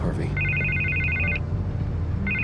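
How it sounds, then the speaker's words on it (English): A telephone ringing in Batman: The Telltale Series, an electronic trilling ring in two bursts, the first long and the second starting near the end, with someone talking over it. "I can't get the phone to stop ringing."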